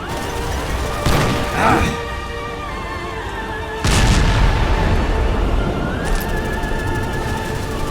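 Gunfire in the video game Halo Reach comes as two loud, sharp blasts several seconds apart, each with a booming low tail, over dense battle noise and a sustained tonal background, with a faint later crack.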